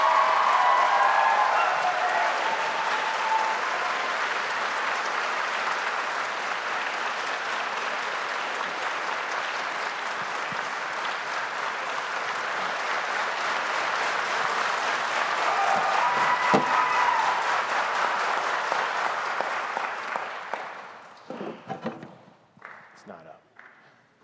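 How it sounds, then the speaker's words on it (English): A talent show audience claps in sustained applause for about twenty seconds, with a few cheers mixed in, before it fades into scattered claps and quiet. "let's give them another round of applause"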